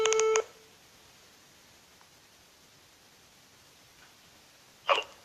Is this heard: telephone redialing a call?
yes